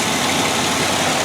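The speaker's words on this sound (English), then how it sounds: "this has the ever popular but incredibly long lasting and great running 4-liter 6-cylinder engine on this baby" Steady low rumble of a 2003 Ford Explorer Limited's 4-liter six-cylinder engine idling, close and even with no rev changes over a short stretch.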